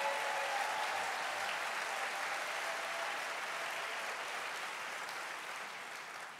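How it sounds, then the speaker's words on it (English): Applause from an audience at a church presidents and staff report meeting, a dense steady clapping that fills the clip and slowly fades toward the end. "It's worth applauding."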